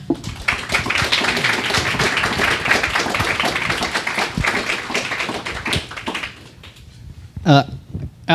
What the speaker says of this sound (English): Please give our panel a round of applause.